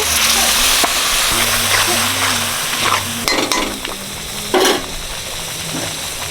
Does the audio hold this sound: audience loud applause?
no